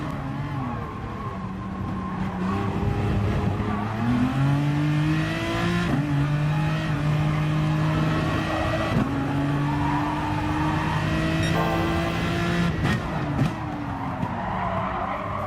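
Race car engine in the video game GT Sport, a steady high-pitched whine that climbs through gears with brief drops at each shift, a tire skid squealing near the end, loud and close.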